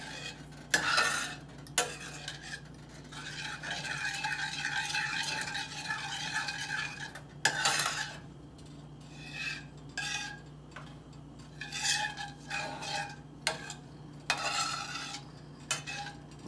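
A spoon stirs a mixture in a pan set on the stove, making intermittent scraping and clattering strokes against the metal. A faint sizzle sits under the quiet stretches between strokes.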